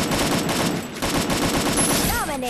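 Rapid automatic gunfire in the Free Fire battle royale game from an MP40 or M4A1, dense bursts of loud close shots rattling continuously, with a few rising game effect tones near the end.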